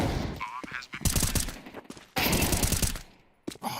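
Rapid bursts of gunfire in the Counter-Strike 2 video game, with sharp cracks and automatic volleys arriving in two loud clusters, separated by brief gaps and followed by a final short burst.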